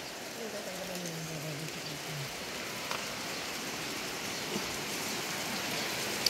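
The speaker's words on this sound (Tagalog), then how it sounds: "Ayan, maulan." Steady rain falls as a continuous broadband hiss around an outdoor home setting at breakfast time, with a few faint knocks and a distant voice briefly audible near the start.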